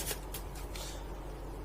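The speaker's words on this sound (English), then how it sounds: "So I'm just going to give these pile of cards a shuffle," Small pile of playing cards shuffled during a magic trick, a quick run of soft riffling flutters at close range, faint and brief, with no voices.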